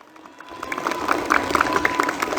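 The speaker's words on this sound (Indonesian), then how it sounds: "Tepuk tangan dulu." Children in a class applaud together, the clapping rising from silence into a lively, steady patter of many small hands that carries on to the end.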